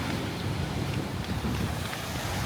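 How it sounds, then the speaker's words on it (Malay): Wind blowing at Pantai Cahaya Bulan beach in Kelantan, a loud continuous rushing buffet across the microphone with no speech. "Berangin."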